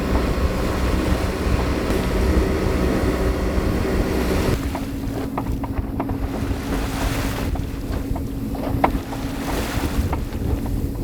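A sailboat cruises at 3 a.m. under moonlight off the western Baja Peninsula, with a steady rush of water along the hull, wind buffeting the microphone and a faint low hum, continuous and fairly loud with no voices.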